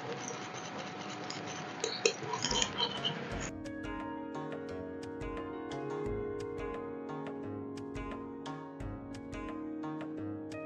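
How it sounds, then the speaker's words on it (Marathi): A spoon stirs flour, added a little at a time, into boiling water in a metal pot while making pithla for maswadi. A dense hiss gives way to repeated light metallic clinks and ticks, close and fairly quiet. "हे पीठ चांगलं कालवलं जातं आपलं."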